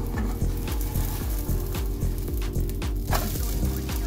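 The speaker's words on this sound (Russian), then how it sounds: "Яичный блинчик переворачиваю и смазываю его чем-нибудь вкусным" An egg pancake topped with flatbread fries in a pan, a rhythmic series of low thumps and scrapes over a continuous sizzle and hum, with a louder clatter near the end as it is turned.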